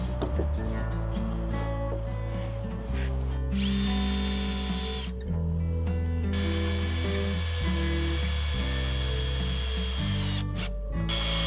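Power drill driving long decking screws into a wooden fence rail, several whirring bursts with pitch changes and short pauses between them, close and clear.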